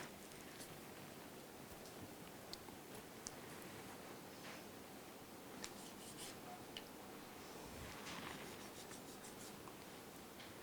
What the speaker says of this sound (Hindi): मैं इसको पहले लिखता हूँ